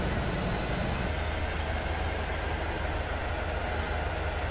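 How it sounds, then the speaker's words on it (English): A Class 43 HST train in the Roblox game Stepford County Railway runs with a continuous loud rumble and roar, steady throughout with no voices. "This train is now approaching Stepford Central."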